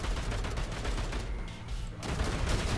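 Turret gunfire in the video game Bunker Punks, a dense continuous rattle of rapid shots with a brief lull before resuming, loud and unbroken by talk.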